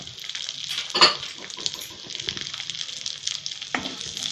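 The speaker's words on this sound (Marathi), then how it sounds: "काजू बदाम भाजून घेऊया." Cashews and almonds roasting in a pan for Indian methi ladoo, with a soft continuous sizzle and dry rustling, one sharper clink of a spoon early on and occasional scraping stirs.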